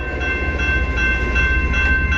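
A northbound CN freight train rumbles past close by near South Rockwood, a loud, unbroken roar of wheels on rails for the whole short stretch.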